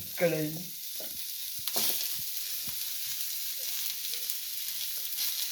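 Food sizzles and fries in hot oil in a kadai, a soft steady hiss under brief clatters and stirring knocks of a utensil against the pan, with a short bird-like chirp near the start.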